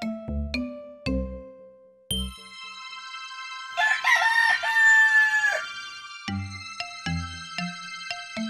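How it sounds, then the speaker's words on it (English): A cartoon rooster lets out a loud, drawn-out crow in the middle, framed by sharp bell-like dings and clucking notes before and after. "Rooster"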